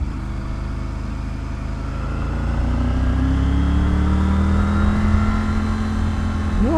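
A Triumph Tiger 850 Sport motorcycle's engine drones steadily while riding, its pitch rising gradually as it accelerates, mixed with constant wind rush and ending with a brief wavering tone.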